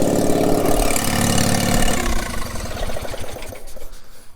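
A Gravely 816 rear-engine garden tractor with an Onan twin engine runs loud and close at first, then its rough, chugging idle fades and sputters toward the end.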